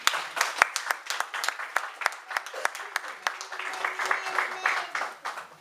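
A church congregation claps and cheers at a service, dense rhythmic applause from a crowd filling the room, with voices calling out over the clapping.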